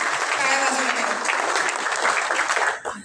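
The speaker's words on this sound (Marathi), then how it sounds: "बराच वेळ आपण टाळ्या वाजवल्या पाहिजेत." Audience applause at a Marathi film trailer launch, a dense, steady burst of clapping from a large crowd that fills the moment and fades out near the end.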